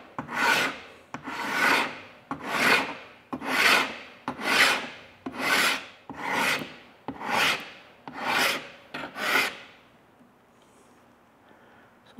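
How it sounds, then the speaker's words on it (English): A file rasps across the bevel of a steel knife blade, ten even, rhythmic strokes of about one second each, close and clear, before the filing stops and a quiet room remains. "So I'll file this down until I get to that center line"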